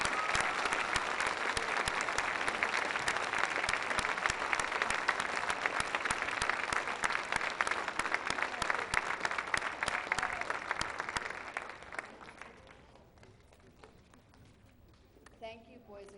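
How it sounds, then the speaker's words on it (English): Audience applause at a school board meeting honoring students on stage, dense sustained clapping that stops abruptly near the end, followed by quiet room tone. "Another round of applause."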